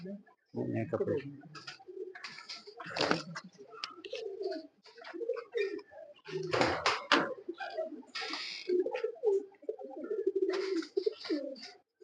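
Champion racing pigeons coo repeatedly on a rooftop loft in Pakistan, with rustling wings and scattered flapping mixed in, the calls close and fairly steady throughout.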